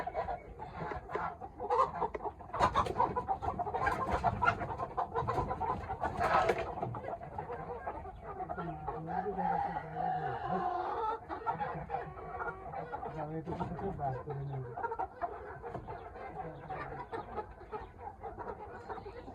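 Tiger-breed and local chickens kept together in a group of about twenty-two cluck and murmur steadily at close range, with occasional louder squawks and faint voices in the background.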